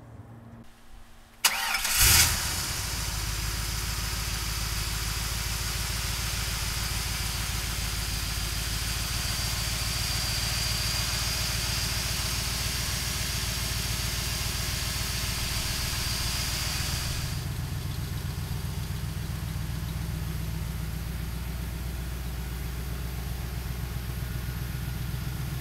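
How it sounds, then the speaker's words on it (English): A 1965 Shelby Cobra with a small-block V8 cranks briefly and catches, then settles into a loud, steady, close idle that holds for over twenty seconds and eases slightly lower near the end. "let's fire this Cobra up"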